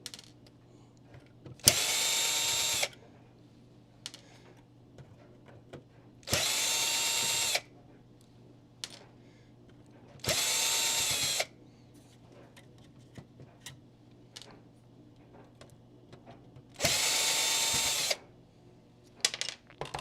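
A power drill runs in four separate bursts of a second or so each, with quiet pauses between, as screws are backed out of a vintage Nintendo console during a repair.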